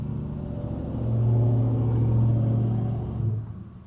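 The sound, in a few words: loud truck engine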